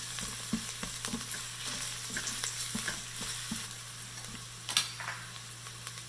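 Finely chopped garlic and ginger sauté in a pan for a vegan potato and moringa stew, with a soft continuous sizzle under light, regular stirring taps, close and fairly quiet.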